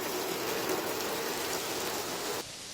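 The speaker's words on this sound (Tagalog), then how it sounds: "pabugso-bugso ang ulan mula kagabi" Heavy, steady rain pours down in Baguio during a storm, a dense unbroken hiss of drops close by that drops suddenly to a softer patter near the end.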